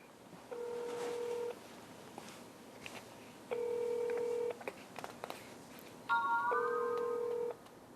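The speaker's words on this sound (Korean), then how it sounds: "어쨌든 한번 전화 연결은 시도해 볼 건데" A telephone call placed in Korea rings out in repeated ringback tones, three long steady beeps roughly two seconds apart with a short keypad-like chirp before the last, clear and alone with no voices.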